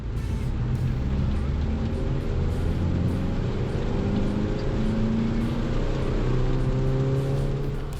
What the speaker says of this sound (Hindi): थर्ड गियर में ही एलिवेट सब 20 kph से 100 kph तक चली जाती है।